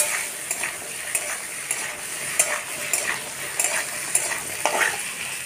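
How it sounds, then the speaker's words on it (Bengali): Diced vegetables including pumpkin and carrot lightly frying in a pan, with a soft steady sizzle and repeated light scrapes and taps of a spoon stirring them; close and fairly quiet, no talk. "বন্ধুরা সবজিগুলো আমি হালকা ভেজে নেব, তো খুব বেশি ভাজবো না।"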